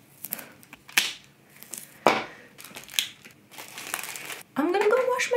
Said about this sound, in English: I'm going to super carefully get this plastic off